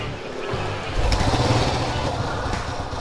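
A Honda Astrea motorcycle engine runs at a close, steady idle, a light buzzing putter that briefly picks up in pace before settling, with a voice speaking faintly over it.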